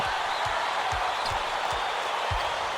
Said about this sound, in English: This crowd, just listen to these people. They're going insane.